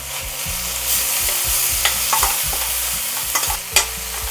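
Tomato, onion and ginger garlic paste frying in a pan for chicken varuval, stirred with a utensil: a steady close sizzle under repeated scraping strokes and a few sharper clinks toward the end.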